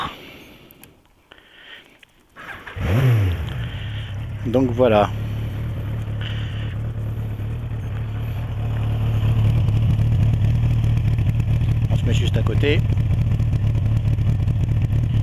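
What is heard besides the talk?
motorcycle engine starting and idling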